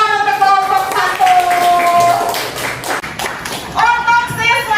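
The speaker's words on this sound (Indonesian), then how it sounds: "Kasih tepuk tangan untuk kelompok 1" Classroom of students clapping for the best group during a science lesson, scattered claps and taps mixed with children's voices and chatter throughout.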